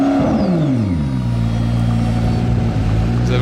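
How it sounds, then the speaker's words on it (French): A McLaren Senna supercar starts in race mode at the Circuit Paul Ricard: a loud, close engine fires up with a brief rising rev, then settles into a steady, deep, throbbing idle that continues to the end. "Vous avez entendu le start-up, comment il se fait quand elle est en race mode?"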